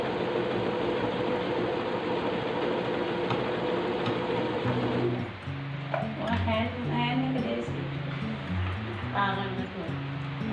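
A Singer E200 embroidery sewing machine stitches out the letter L, a rhythmic whirring and stepping hum that shifts pattern partway through, with a voice talking over it.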